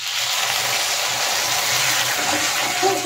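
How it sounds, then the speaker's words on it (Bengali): Water is poured into a cooking bean-shell and mustard-seed curry, giving a steady close gushing splash with a faint sizzle underneath that continues unbroken for a few seconds. "এখন আমি দিয়ে দেব সামান্য জল"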